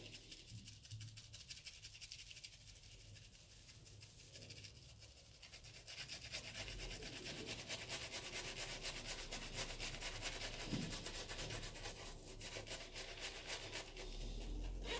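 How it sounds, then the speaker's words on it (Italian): Wilkinson shaving soap being lathered with a boar bristle shaving brush, a continuous wet scrubbing and rubbing, quiet at first and growing louder and denser halfway through, with no talking. "La mettiamo un po' nel pennello di maiale della Wilkinson."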